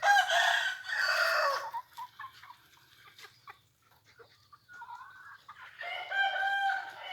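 A rooster and chickens: a loud close crow opens, followed by scattered soft clucks and quiet gaps, then another crow rising near the end.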